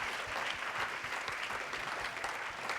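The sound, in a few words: applause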